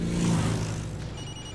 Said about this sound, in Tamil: யார் மாப்பிள்ள போன் அடிக்கிறது?